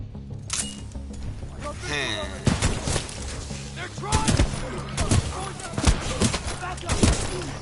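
Heavy shotgun blasts from an auto-loading shotgun in Titanfall 2 fire in an uneven series of loud, sharp reports over a busy game mix, with someone talking throughout.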